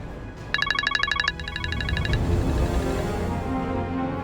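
A telephone rings out in a quick burst of bright repeated electronic trills as a call is placed, followed by a muffled rustle of movement.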